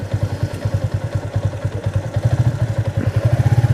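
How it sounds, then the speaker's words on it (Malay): A motorcycle engine chugs steadily up close, its low pulsing throb growing slightly louder and faster toward the end. "Motor."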